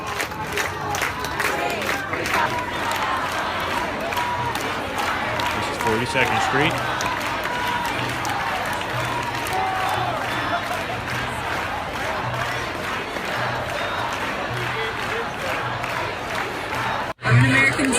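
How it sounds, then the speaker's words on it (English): Protest crowd gathered outside Grand Central on 42nd Street, a dense mass of shouting, chanting and cheering voices with rhythmic pulses, sustained throughout, with a loud thump near the end; a person speaks over it. "There's an overflow crowd outside."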